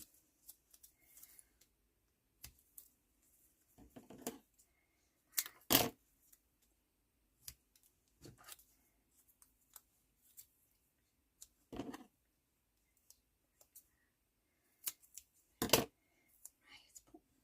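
Scissors cutting paper for an autumn journal, a handful of sharp, quiet snips spaced a few seconds apart, with soft rustling and handling noises between them in a near-silent room.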